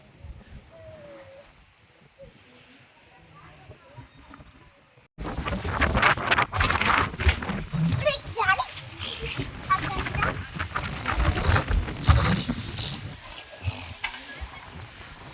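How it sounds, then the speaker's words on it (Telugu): Strong gusty storm wind in Guntur at the onset of heavy rain, starting as a faint rustle and then surging into loud, sustained roaring buffeting with microphone wind noise, close and continuous. "గాలి చూడాలి ఇచ్చి కొడతా ఉంది గాలి చూడండి మామూలుగా లేదు"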